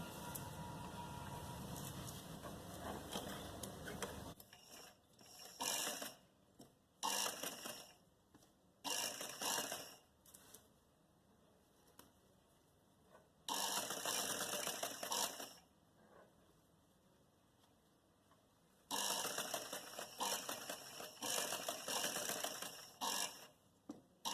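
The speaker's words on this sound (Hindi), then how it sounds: "यहाँ से सिलाई होगी" Sewing machine stitching a button placket strip onto a garment, heard as several separate runs of steady mechanical whirring that start and stop, separated by quiet handling noises.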